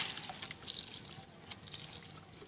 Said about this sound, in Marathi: तर आपण ह्याला पाणी देऊन घेऊया.